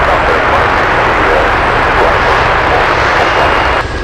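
Loud, steady roar of a jet aircraft moving across the runway at Anchorage airport, a UPS plane close by and continuous for the whole stretch, easing slightly at the very end.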